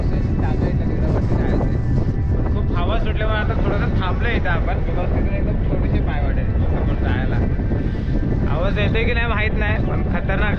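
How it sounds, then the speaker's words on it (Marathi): Strong wind gusting across an exposed hillside path on the Hargad fort trek in the Baglan region, a steady loud roar buffeting the microphone throughout, with a voice talking over it at times. "हवा सुटल्या खतरनाक एकदम"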